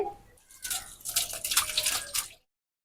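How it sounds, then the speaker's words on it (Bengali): Jiol fish and water are poured into a container, a close splashing gush that swells for about two seconds and then cuts off abruptly. "জিওল মাছগুলো ঢেলে নিচ্ছে"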